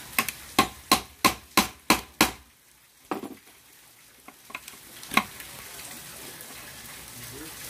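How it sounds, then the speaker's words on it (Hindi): A hammer knocks out the bearing of a marble cutter machine: seven quick, evenly spaced sharp blows ring out, then a pause and a few scattered, softer knocks. "फिर से हथौड़ा को ठोकना होगा,"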